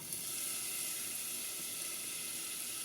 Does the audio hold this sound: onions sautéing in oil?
yes